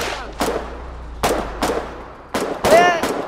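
Several sharp booming blasts of artillery fire in the war video game Foxhole go off at irregular intervals, with a whistling, ringing tail after the last one, over a low background rumble.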